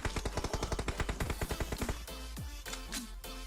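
Rapid automatic gunfire in PUBG Mobile, a fast even burst of sharp shots for about two seconds followed by a few scattered rounds and whooshing game effects.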